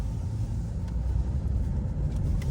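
A BMW 3 Series E90 driving at an easy pace, heard as a steady low engine and road rumble from inside the car, with no talking.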